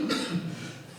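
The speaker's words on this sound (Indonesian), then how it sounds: "Maaf, batuk." A single short cough from a teacher during an Indonesian arts lesson, close and fairly muffled, with no other voices around it.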